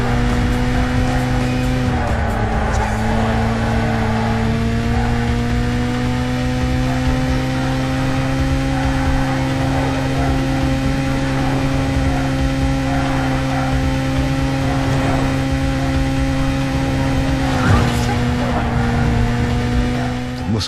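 Muscle car in Burnout on the PS2, racing through the River City track: a loud, steady engine drone with sustained harmonic whine, holding nearly constant for about twenty seconds, with brief dips around two and eighteen seconds.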